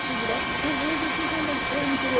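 Helicopter rotor and engine drone from a news helicopter flying over the tsunami engulfing the Sendai area of Miyagi Prefecture, Japan, a steady close hum with a broadcaster's voice talking over it.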